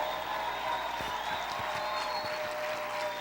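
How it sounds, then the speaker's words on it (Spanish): A church congregation at a conference claps along during worship, rather quiet and distant, with scattered clapping over sustained organ-like music tones. "Grita y aplaude fuerte a tu Señor."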